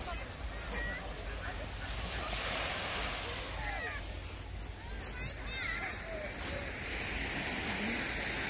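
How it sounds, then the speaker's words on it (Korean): Calm, gentle sea waves at Gangneung beach wash softly in a steady low wash, with wind buffeting the microphone and faint distant sounds over the surf. "파도가 잔잔합니다"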